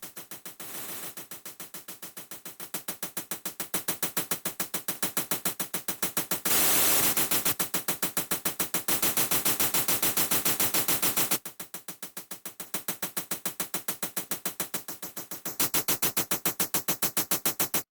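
Harsh, buzzing distorted white-noise synth pulsing in rapid repeated bursts for a tearout machine-gun bass sound, loud and gritty, shifting in brightness across several sections with no voices.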